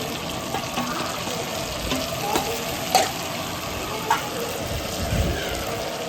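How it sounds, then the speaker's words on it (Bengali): Roasted spice paste mixed with yogurt sizzles in a pan for a spicy red chicken roast, with steady frying hiss and several scraping stirs of a spoon; faint kitchen sounds sit under it. "দই দিয়ে যে রোস্টেড মশলাটাকে গুলিয়ে রেখেছিলাম সেটা আমি দিয়ে দেব।"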